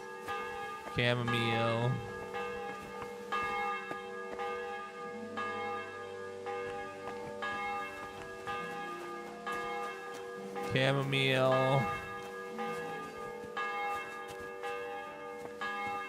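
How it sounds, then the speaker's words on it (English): A church bell tolls in Kingdom Come: Deliverance II, with long ringing strokes sustaining throughout and two louder clangs about ten seconds apart, while a man mutters softly under it. "That bell's like really, really ringing."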